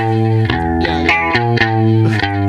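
Distorted electric guitar riff from a recording by a grind band, rapid picked chugging notes with chorus-like shimmer, loud and continuous with no talk.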